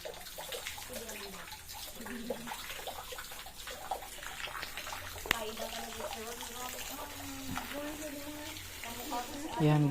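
Water flowing inside a cave at Sagorong in Bato, Camarines Sur, a steady nearby splashing trickle, moderately loud, with someone talking over it throughout.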